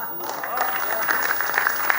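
Audience clapping at a comic poetry gathering for Teacher's Day, a sustained round of applause from a hall crowd with faint voices underneath.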